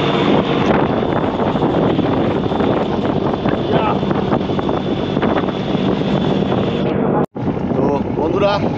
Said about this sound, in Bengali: আমরা তো মোটামুটি এই লঞ্চের একদম ছাদের ওপরে বসে রয়েছি